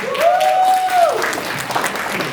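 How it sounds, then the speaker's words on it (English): An audience at a student debate demonstration gives a round of applause for a speaker, brisk clapping heard alongside a sustained sung or spoken voice tone. "Give him a round of applause"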